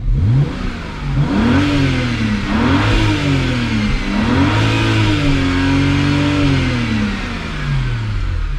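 A BMW 335i E92 with an N54 engine revs up and down several times close by, its pitch rising and falling over a steady loud idle.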